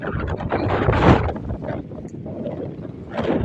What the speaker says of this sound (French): En plus le vent se lever, il doit être à 60, 90